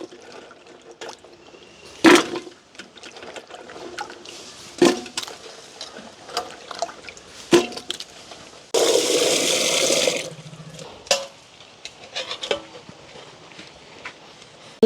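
Water is poured and swished while a cooking pot used for boiling jackfruit seeds is washed in a village kitchen. Sharp knocks and clatters come throughout, with one loud splashing rush of water in the middle.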